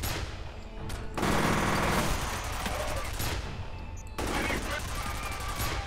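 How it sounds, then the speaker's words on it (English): In the video game F.E.A.R., a turret machine gun fires in dense sustained bursts, loud and close, with a pause between two long volleys. "This turret is so OP. Damn, that guy literally sprayed all over the place."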